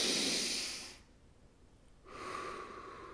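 Slow deep breathing during a guided relaxation: a long airy inhale, a quiet pause, then a breathy exhale, close and alone.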